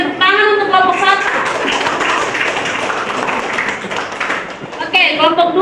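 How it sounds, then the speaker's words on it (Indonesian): Classroom applause for a student group at an elementary school, dense steady clapping from many children, with voices talking over the start and end. "berikan tepuk tangan untuk kelompok 1"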